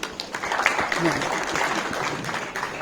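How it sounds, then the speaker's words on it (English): Warm applause from a crowd fills the clip, a dense steady clatter of clapping without a break. "giving a warm round of applause"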